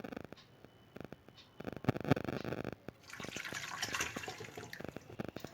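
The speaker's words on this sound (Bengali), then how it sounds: "গরম জলটা আমি দিয়ে দিলাম, দিয়ে আমি প্রেসার কুকারে মাংসটা করে নেব" Hot water poured into a pressure cooker holding mutton for a curry, a steady splashing pour that swells louder toward the end, with small clinks, alone and close.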